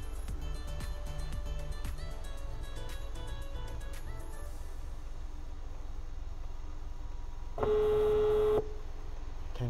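A phone's ringback tone sounds once, a steady electronic tone lasting about a second, after quiet background hum and faint clicks.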